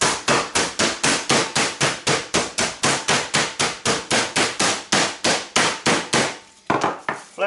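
Steady, rapid pounding of chicken cutlets being flattened for chicken marsala, roughly two dozen loud, evenly spaced thuds close by, with a brief pause near the end before the strikes resume.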